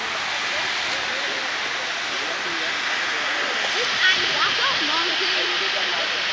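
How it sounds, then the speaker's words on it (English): Dam water rushing out in Muscat, Oman, a steady broadband roar of churning spillway flow that stays loud and even throughout, with faint voices now and then beneath it. "This is kind of interesting looking, the way that the dam water is coming out."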